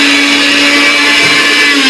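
A mixer grinder blends Oreo biscuits with a loud, close, unbroken motor whine and whir that holds steady from start to finish, with no voices.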